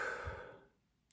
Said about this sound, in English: with a big breath